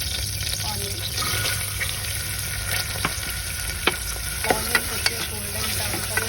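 Onion, curry leaves and coriander fry in hot oil in a pressure cooker, a constant close sizzle with a few sharp pops and clinks of stirring scattered through.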